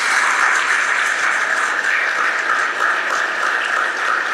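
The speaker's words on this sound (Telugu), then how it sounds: "ఒకసారి వారి గట్టిగా చప్పట్లు కొట్టండి." A gathered crowd at a spiritual event claps loudly and steadily for Tirupati Reddy, a dense, sustained wash of applause without voices.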